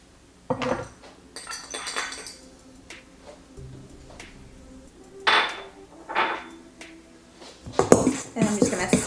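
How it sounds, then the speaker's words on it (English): A fork stirs and clinks against a bowl while a donut dough mixture is combined, making irregular scraping and tapping strokes that come and go over a low background. "I'm just gonna stir that up. I'm using a fork because it does stir better with a fork."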